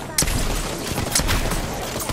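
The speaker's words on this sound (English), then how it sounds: "Oh, I'm just getting shot at." Gunfire in Apex Legends: a few sharp shots crack at intervals over a steady background of game noise, fairly close and moderately loud, with no talking.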